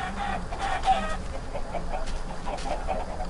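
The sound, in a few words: chickens clucking in a video game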